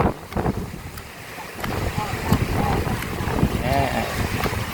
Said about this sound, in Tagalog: Medyo mahangin lang guys.